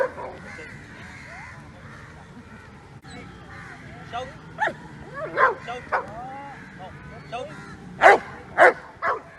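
Dogs bark and yip at a public dog park in Trivandrum during a Sunday obedience training session, with several loud, sharp barks near the end over crow caws and people talking in the background.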